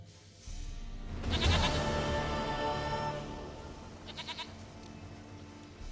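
Goat bleats from The Witcher 3 video game, a couple of short wavering calls at moderate distance over a low ambient game soundscape, with a fainter repeated bleat later.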